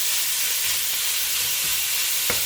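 Meat frying in a pan with a tablespoon of vegetable oil for Cajun dirty rice, giving a steady, even sizzle throughout, with a few faint clinks or stirs and no talking.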